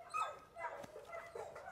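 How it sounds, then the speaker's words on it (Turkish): Dog whimpering and yipping, with several short, high, whiny cries spread across the clip at moderate loudness and close range, with no talk. "Benim köpeğim eğitimli."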